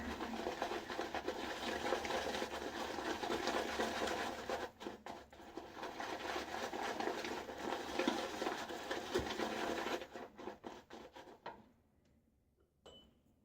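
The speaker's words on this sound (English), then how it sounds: "Got a nice little creamy looking lather working up here" Creamy shaving lather being worked up with a brush, a steady wet swishing and lapping that runs close and continuous for about ten seconds, then thins out and fades to near quiet.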